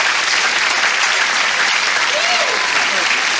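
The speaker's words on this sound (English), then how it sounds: "People are clapping because like they don't know what else." Steady, dense clapping from a live comedy album audience, continuous and fairly loud throughout with a faint vocal murmur mixed in.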